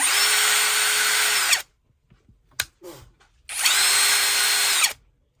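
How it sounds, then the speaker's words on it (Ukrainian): A Grand DA-16Li BL cordless drill whirs at steady speed for about a second and a half, stops, a few handling clicks follow, then it runs again briefly. "Дриль має перемикач швидкостей на два положення."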